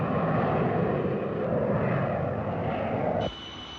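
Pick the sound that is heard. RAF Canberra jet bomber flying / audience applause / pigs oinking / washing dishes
RAF Canberra jet bomber flying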